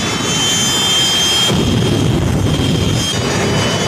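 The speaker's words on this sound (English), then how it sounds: "the powerful green Mamba jet dragster" A loud, roaring jet dragster engine blasts steadily at a drag strip, Great Lakes Dragway, its thunder surging at moments with a harsh high whine riding over the rumble.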